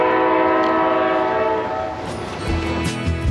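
A loud, sustained Amtrak California Zephyr train horn blasting with rich layered tones, followed by rumbling rail noise and clacking as it fades.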